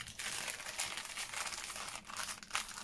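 A see-through plastic packaging bag is folded down while an order is packed, making a steady, close crinkling and crumpling that runs throughout with a few sharper rustles.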